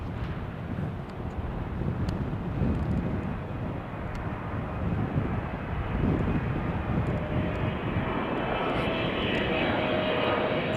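A Korean Air Boeing 777 in the new livery arrives on runway 09L at Heathrow, a low jet rumble that swells slightly partway through and holds steady, with light wind buffeting on the microphone.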